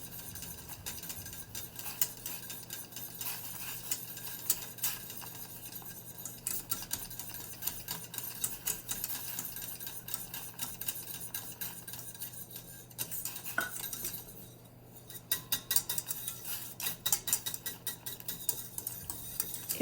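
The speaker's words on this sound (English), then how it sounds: "slowly add the polenta to the water while whisking" Steady metallic whisking of polenta into boiling water in a pot, a fast rhythmic clatter of wires on metal continuing throughout with a low kitchen hum underneath.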